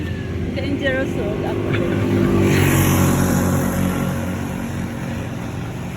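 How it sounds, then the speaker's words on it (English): A tuk-tuk motors past along a road, its buzzing engine growing louder to a peak midway and then fading off, while people talk close by. "Here comes the tuk-tuk."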